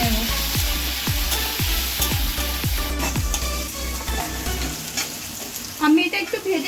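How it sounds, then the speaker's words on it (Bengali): A partly ground spice paste for potato curry sizzles loudly in hot oil, a continuous close fry broken by a run of regular stirring scrapes, with a few clatters near the end and no talking. "এবার মশলাটাকে একটু ভেজে নেব।"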